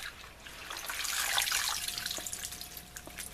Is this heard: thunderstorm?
no